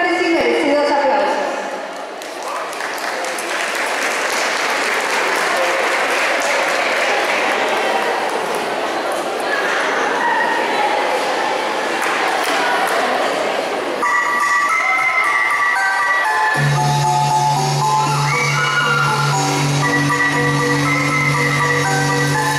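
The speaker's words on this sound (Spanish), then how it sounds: "Darles fuertes y merecidos aplausos." At a Flor de Maíz pageant in San Juan Ostuncalco, an audience applauds a modern folk ballet troupe with a loud, dense wash of clapping and cheering, then music with a sustained tone takes over.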